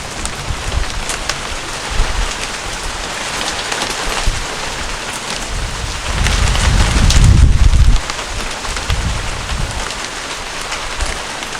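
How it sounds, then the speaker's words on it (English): Hail pelts a covered area during a thunderstorm, a dense continuous patter with gusts of wind buffeting the microphone and one louder, heavier surge partway through. "But it is hailing."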